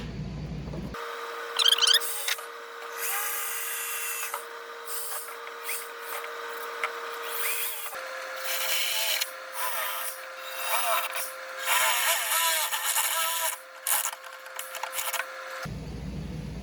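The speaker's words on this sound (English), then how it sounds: "Let's get these holes drilled." Power drill boring holes in the body of a 1968 Ford Mustang coupe, a steady high motor whine that runs continuously for about fifteen seconds with a slight pitch step midway, with rasping cutting noise layered over it.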